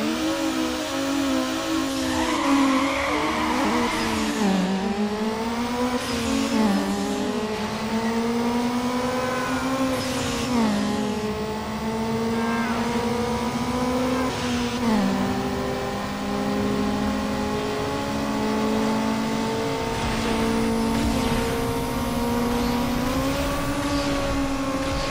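A street racing car in Need For Speed Underground revs hard throughout, its engine note climbing and dropping with each gear shift under loud sustained acceleration, with no talk.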